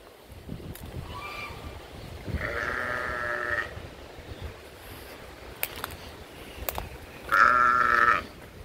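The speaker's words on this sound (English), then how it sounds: "Hey, sheep." Sheep bleat twice, a longer wavering call followed later by a louder one, over faint outdoor background noise with a few clicks.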